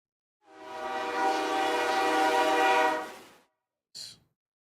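A train horn sounds as one long, loud blast of about three seconds, followed by a brief short toot, with no talk over it.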